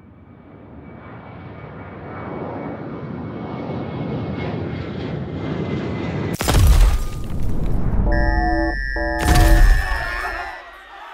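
A plane engine drones steadily in a sci-fi horror story, building in loudness over several seconds before sharp booming impacts and a shattering crash cut in, followed by electronic tones.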